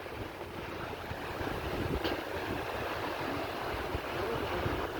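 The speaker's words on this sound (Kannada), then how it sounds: "ಇದು ನೋಡಿ ಹೆಂಗೆ ಹೋಗ್ತಾ ಇದೆ, ನದಿ ಹರಿದಂಗೆ ಹರಿತಾ ಇದೆ" Steady rushing flow of sanitary waste water from sewage pipes, a broad continuous roar with no pauses, fairly close.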